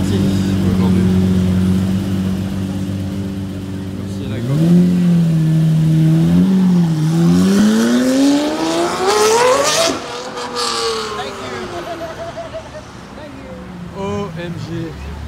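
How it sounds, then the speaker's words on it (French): Bugatti V12 engine in Beverly Hills revs hard, its pitch climbing steadily into a high scream before dropping off, loud and close, with street ambience afterward. "il est bien monté dans les tours, le V12 a bien pris dans les aigus"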